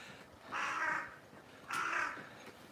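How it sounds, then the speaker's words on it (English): A crow on a morning walk in Kyoto, Japan, gives two loud, harsh caws about a second apart, standing out clearly against quiet street background. "that is a loud crow"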